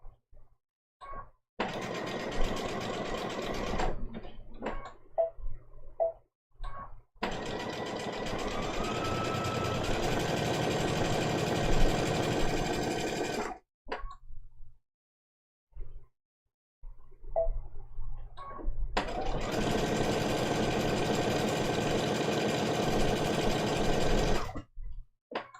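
A sewing machine stitches a small ladybug applique quilt block in three loud, fast, rattling bursts, with short pauses and quiet handling sounds between them.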